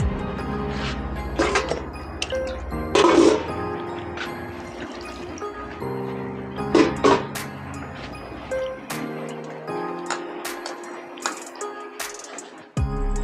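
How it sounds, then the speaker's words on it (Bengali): Water poured into a bowl of soaked soybean chunks to rinse and cool them, with splashing, dripping and squishing in uneven bursts, close-up in a home kitchen. "জল দিয়ে ধুয়ে নেব"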